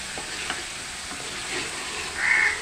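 Spice paste for chicken kofta curry fries with a soft, steady sizzle, broken by a few light stirring scrapes. A faint bird call sounds near the end, and no one speaks.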